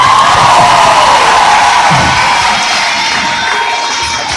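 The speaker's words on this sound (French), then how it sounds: "Faites un maximum de bruit encore pour moi." A large crowd of students at a comedy show cheers and shouts loudly and continuously, a dense roar with whoops rising out of it, slowly easing off toward the end.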